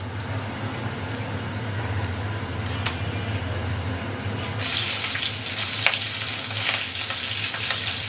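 Black cumin, cumin and green chillies fry in hot oil, a low steady sizzle that suddenly bursts into a louder, brighter crackle partway through, with occasional clicks and no talking.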